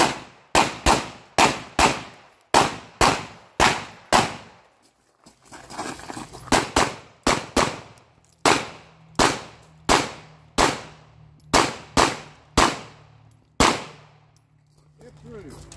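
Rapid pistol shots from a USPSA Carry Optics match ring out as sharp, loud cracks, close and in quick bursts of two and three with short pauses between them, carrying on steadily through the whole stretch.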